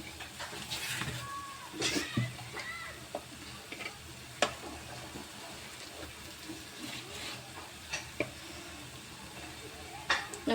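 Samosas frying in hot oil in a home kitchen, a steady soft sizzle with occasional stirring clinks and taps, close and moderately quiet, with no one talking.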